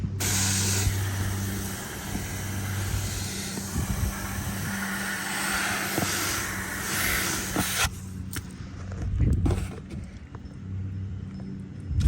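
A handheld water sprayer mists winter sowing containers, giving a steady close hiss of spray for most of the stretch before it breaks into shorter bursts near the end.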